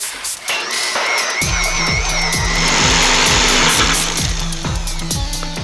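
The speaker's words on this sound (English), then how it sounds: "Now this joint right here will shave down a perfect tenon in seconds." Lumberjack Tools tenon cutter shaving a log end into a tenon, a loud, steady power-tool whine with rhythmic chattering cuts that sets in after a quiet second and continues to the end.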